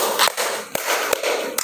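Hand clapping for the fifth pattern of a counted group clapping routine: four sharp, evenly spaced claps ring out against a constant noisy room background.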